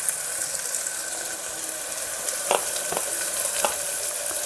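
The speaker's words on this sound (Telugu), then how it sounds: "ఆనియన్స్, కరివేపాకు, పచ్చిమిరపకాయలు వేసుకొని ఆయిల్లో కొంచెం ఫ్రై చేసుకోవాలి." Onions, curry leaves and green chillies frying in oil in a pan, an even close sizzle with a few brief clinks and scrapes from stirring near the end, no speech.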